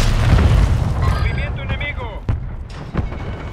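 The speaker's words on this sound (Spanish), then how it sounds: "Salió un ataque de mortero" Mortar strikes in the video game Call of Duty: Warzone land as heavy booming explosions, the loudest at the start and sharper impacts later, while players talk throughout.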